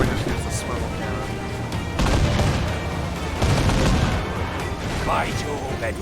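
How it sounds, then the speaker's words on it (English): Swivel cannon blasts in Assassin's Creed IV Black Flag during a naval fight, loud repeated booming bursts amid battle noise, with game voices speaking over the gunfire. "How about we just use the swivel cannon?"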